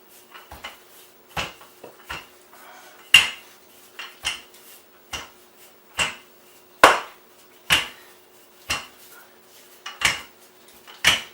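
Pizza dough rolled out with a rolling pin, pressed through the center. Repeated sharp knocks and taps land about once a second, close and clear, with no talking.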